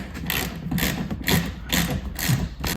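Ratchet wrench tightening the bolts on a Jeep Wrangler hard top, a steady run of rapid mechanical clicking strokes with dull thumps between them, close by and fairly loud with no talk.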